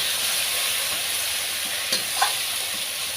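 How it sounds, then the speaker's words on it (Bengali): Prawns frying in hot oil give a dense, continuous hiss that stays close and even, with a couple of faint knocks near the end and no voices. "দেখো বন্ধুরা, আমি প্রথমে চিংড়ি মাছটা ভেজে নিচ্ছি"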